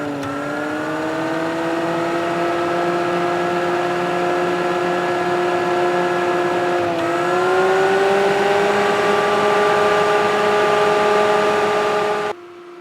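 A Boundless Breeze 12-volt camping fan runs steadily inside a Suburban SUV, heard close from outside the vehicle as a continuous whirring hum with a slight pitch shift midway, cutting off near the end.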